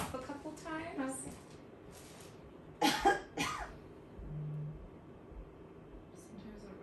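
Patient coughing on request during a pregnancy ultrasound appointment: a couple of short, close coughs with a throat clear amid quiet room noise and faint murmured talk.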